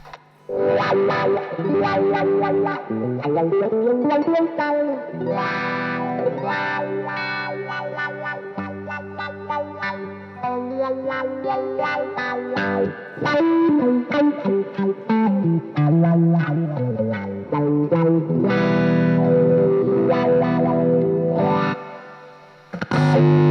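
Electric guitar run through a wah-wah pedal, sweeping chords and single-note lines with a swelling, vocal-like filter, bright and effected with a touch of chorus and echo, loud and continuous.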